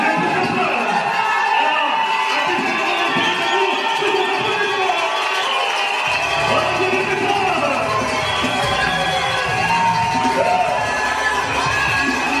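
A crowd at a wedding evening party cheers loudly and continuously, with whoops and shouts forming a dense, sustained roar that swells partway through.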